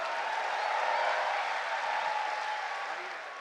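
A large audience at a Jashn-e-Rekhta poetry gathering claps in a steady, dense wash of applause to welcome a poet, staying loud throughout and easing slightly at the end.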